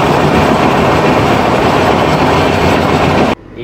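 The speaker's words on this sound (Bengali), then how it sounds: "ও ক্রস করছে বন্দে ভারত এক্সপ্রেস" Puri–Howrah Vande Bharat Express 22896 rushing past close by, a loud steady roar of wheels and rail noise that cuts off abruptly near the end.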